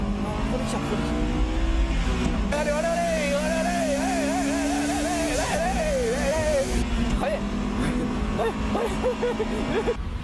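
Honda S2000 race cars, AP1 and AP2 versions, race closely on a track, their engines droning loudly and rising and falling in pitch through the gears while a commentator talks over the action.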